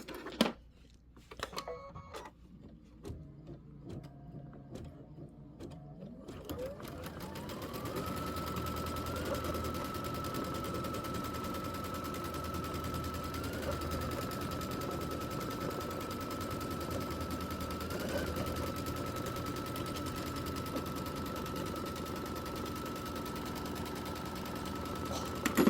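Computerized embroidery machine stitching a scalloped border on a star-spangled quilt, a steady rapid mechanical chatter running continuously after a few seconds of quieter setup clicks, fairly close and without talk.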